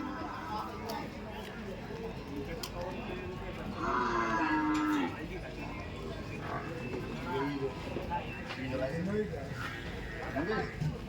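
Buffaloes at the old Dhule livestock market moo in a low drawn-out call, rising once clearly above busy crowd chatter and someone talking nearby.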